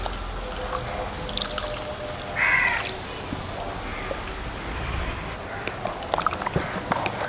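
A glass of ground masala mixed with water is poured into a pot of village-style chicken dum biryani, a brief splashing pour midway amid faint outdoor background clatter and small knocks.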